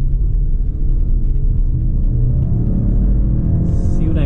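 Inside a 2020 Subaru Outback XT with its turbocharged engine running, a deep steady rumble drones under the cabin, rising slightly in pitch near the end.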